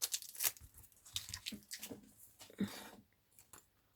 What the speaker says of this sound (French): On enlève son scotch.